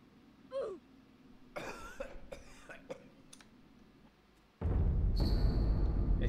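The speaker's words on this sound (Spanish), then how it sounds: "En algún lugar se escucha una tos incesante." A man coughs repeatedly in Sekiro: Shadows Die Twice, several faint rough coughs in a quiet game scene before a loud rushing noise takes over.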